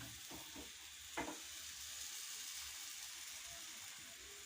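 Patishapta batter for a kheer-filled crepe fries on a hot tawa, giving a soft, steady sizzle and hiss throughout, with a few faint clinks early on and no talking.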